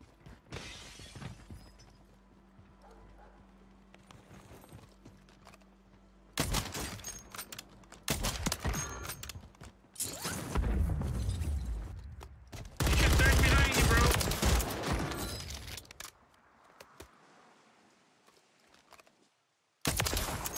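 Gunfire and crashing impacts in a battle royale video game, bursts of rapid shots and shattering debris coming in loud clusters separated by quieter stretches, with brief speech in places.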